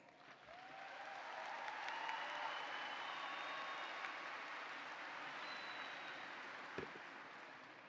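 Applause for graduates at a fall university commencement ceremony, a broad wash of clapping from a large crowd that swells in and holds steadily, heard from a distance in a big hall.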